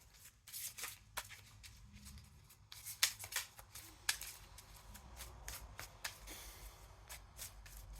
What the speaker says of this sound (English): You see me shuffle on camera